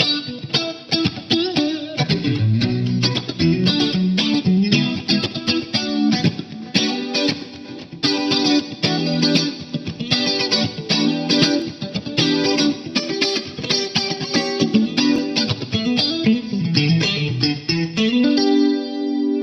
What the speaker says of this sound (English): switch off the tube 9, switch on the compressor, and for example, switch on also the mod and chorus